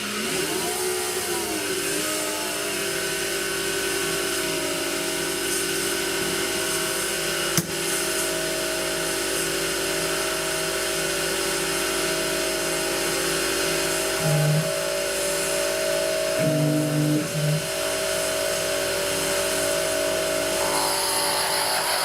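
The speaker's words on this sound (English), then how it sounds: "This is what's commonly known as a peck drilling operation." A CNC-converted 7x14 mini lathe peck drilling, a steady machine whine and motor drone throughout with brief pitch shifts as the drill pecks in and out, heard close inside the enclosure, no talking.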